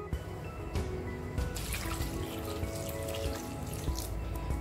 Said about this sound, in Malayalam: ഞാനിപ്പോൾ ഒരു കപ്പ് വെള്ളം ഒഴിച്ച് കൊടുത്തിട്ടുണ്ട്